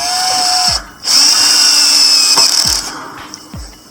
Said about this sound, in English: when it starts to bite, and I get my drill